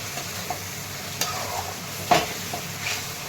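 Chopped onion and green chili frying in hot oil for a Marathi amti, with a soft steady sizzle and a few sharp scrapes and clinks of a spoon in the pan, no talking.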